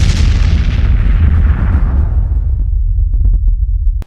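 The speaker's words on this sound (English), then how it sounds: "When he got there was a bright green explosion." A cartoon explosion effect, a bright green blast in an animated prison-break edit, bursts loudly and rumbles on as a long, deep roar that slowly fades, with a few faint clicks near the end.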